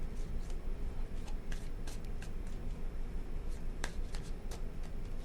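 Tarot cards are shuffled by hand in a series of quick crisp riffles and soft slaps, close and fairly quiet.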